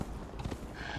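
Horse hooves clip-clopping in Conan Exiles, a few quick hoofbeats in a short burst, fairly faint.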